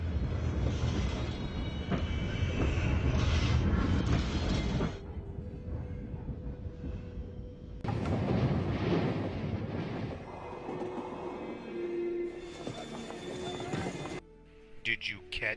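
A train passing through a tunnel, a loud, dense rumble of wheels and carriages with metallic squeals, surging in waves and easing off near the end, with voices underneath.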